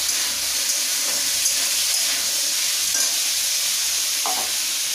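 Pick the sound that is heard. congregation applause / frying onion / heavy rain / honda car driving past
frying onion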